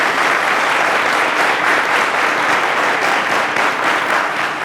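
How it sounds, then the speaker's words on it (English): Loud, close, continuous applause from a television quiz show studio audience, even and sustained throughout with no voices on top. "round of applause to them."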